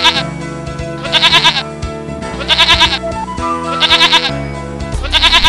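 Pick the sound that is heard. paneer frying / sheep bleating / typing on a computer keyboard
sheep bleating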